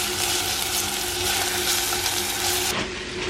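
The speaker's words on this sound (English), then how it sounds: "That is sat sizzling away nicely" Steady, dense sizzling and crackling of food frying in a pan, continuous and close, easing slightly near the end.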